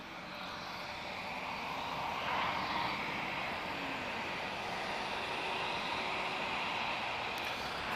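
An airliner arriving from Nantes rumbles past as a broad, fairly distant jet roar that swells slightly and holds steady, with no talking.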